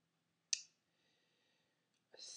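A single sharp computer mouse click on a browser bookmarklet, short and close in near silence, followed by a soft breath or rustle.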